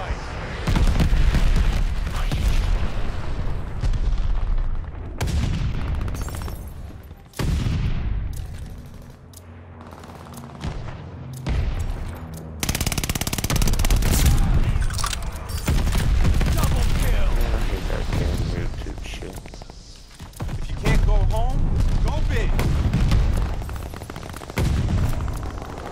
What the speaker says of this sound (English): Allied glide bomber on the way.